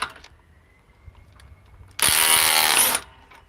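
A DeWalt XR DCF870 hydraulic impact driver with 1.7 power stack, rated 140 foot-pounds, runs in one loud, steady one-second burst amid quiet surroundings.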